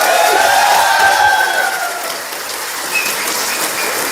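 Audience applause at the Islamabad Literature Festival, a steady broadband patter of many hands clapping that fades slightly then holds, with faint voices mixed in.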